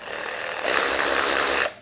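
An AOBEN 20V 3/8-inch cordless ratchet wrench with a 400 RPM motor whirs steadily for under two seconds, rising in pitch and loudness partway through as the trigger is pressed harder, then cuts off, close and alone.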